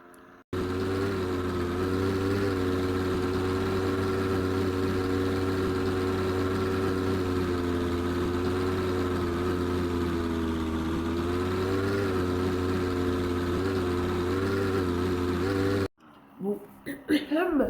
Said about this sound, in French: T'as mis un moteur rouillé dedans.